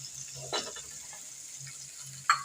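Egg broken into a pan and stirred in with fried tomato and a pinch of turmeric, quietly sizzling close by with a couple of brief stirring clinks, no talking.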